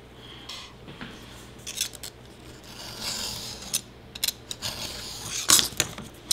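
Scissors snip through paper or card while building a tiny book shelf, a few quiet irregular cuts and rubbing sounds spread across a faint background, with no talking.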